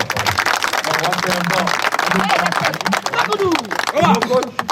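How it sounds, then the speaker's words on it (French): Audience applauding a team at a workshop event, dense steady clapping with voices talking and calling out over it throughout. "Je voudrais qu'on applaudisse l'équipe."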